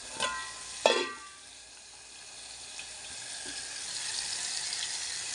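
Onions, tomato and cumin sizzling in a pan of egg curry, a soft steady frying hiss that slowly builds, opened by a couple of sharp clatters from utensils.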